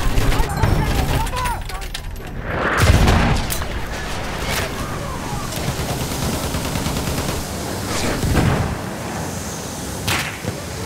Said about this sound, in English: There's a machine gun! Look out! Machine gun!